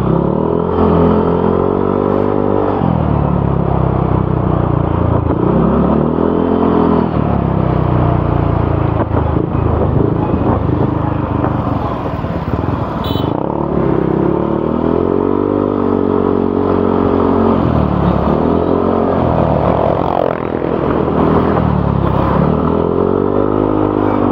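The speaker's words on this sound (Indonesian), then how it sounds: "teman-teman bisa dengarkan langsung suara TZM Project pakai DB Killer" A motorcycle fitted with a TZM Project exhaust and a dB killer insert rides along a road, its engine droning loud and close with repeated rises and falls in pitch as it accelerates and shifts, plus wind rush and clatter.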